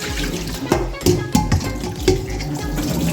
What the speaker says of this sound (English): Now you see that? You're rinsing out that basin there.